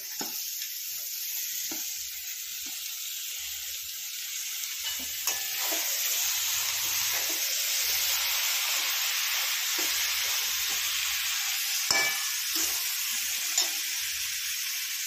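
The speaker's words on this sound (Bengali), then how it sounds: "এবার কুমড়োগুলো দিয়ে দেওয়া হচ্ছে" Pumpkin pieces tossed into a hot pan with garlic paste and stirred, producing a loud, steady hissing sizzle with intermittent scraping and clatter from the spoon, close up and without speech.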